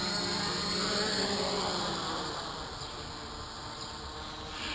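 A HoverThings HT-FPV quadcopter with NAZA-M GPS auto-landing, its steady high buzzing whine of propellers continuing at close range and gradually dropping in pitch and level as it descends, with no talk.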